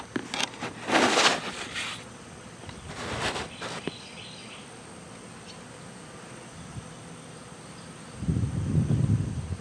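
Bees buzz around a hive outdoors, with a couple of loud passes close by early on that fade out, a steady faint hum in between, and another low droning buzz rising near the end.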